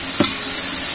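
Fenugreek leaves frying in a pan for methi dal, a steady, bright sizzle that stays loud and close throughout, with a brief stirring scrape near the start.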